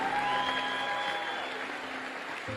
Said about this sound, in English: Get the old man a round of applause.